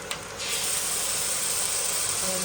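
Garlic and ginger paste hitting hot oil with fried chopped onion in a frying pan, a sudden loud, steady hiss of sizzling that starts sharply and holds evenly, close by with no talk.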